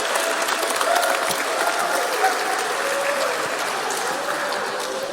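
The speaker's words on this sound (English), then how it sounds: "Can we also have a cheer for speaker 2, it was Richard?" An audience at a PowerPoint Karaoke event at EMF2024 applauds and cheers for a speaker. Steady, dense clapping with scattered whoops fills the room at close range throughout, with no talk over it.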